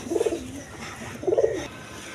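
Two soft, throaty coos from Teddy pigeons, one at the start and another about a second later, close by with a quiet background.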